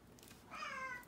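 A cat gives one short, faint meow in a quiet indoor room, rising briefly and then fading.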